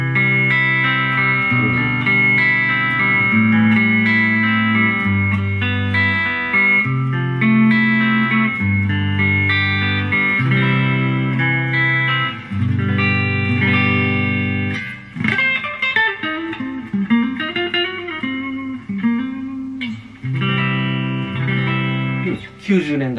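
Greco AG-1000 electric guitar with mahogany back, maple top, ebony fingerboard and a 90s Dry pickup, played continuously in chords and melodic lines, clean and full with some ringing sustain, loud and close.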